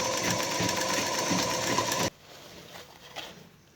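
Sewing machine stitching dress fabric, with a steady, loud, fast mechanical whir for about two seconds before it stops abruptly, leaving quiet room sound and a faint tap.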